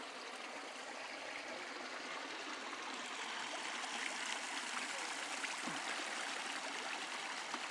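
A small stream flows through the Óbánya valley in the Eastern Mecsek hills of Hungary. Its soft, continuous babble and trickle hold steady and fairly quiet, with no voices over it.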